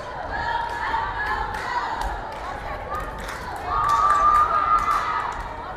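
A local crowd at a high school sports game cheers and shouts in a gym, with a steady roar that swells louder near the end and scattered thuds and squeaks mixed in.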